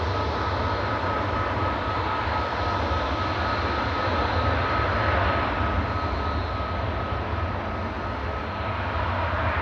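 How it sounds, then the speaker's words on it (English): An Etihad airliner touching down at Manchester Airport after a flight from Abu Dhabi, a loud, continuous engine roar with a thin steady whine riding on it, fading a little near the end, no speech. "Etihad's just touched down from Abu Dhabi with Flight 15."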